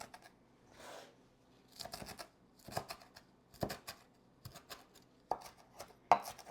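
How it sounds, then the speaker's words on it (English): A kitchen knife chops vegetables on a board for shrimp and crab ceviche, giving a series of quiet, close, irregular cutting taps spaced a fraction of a second apart. "Cut one way and then cut the other way."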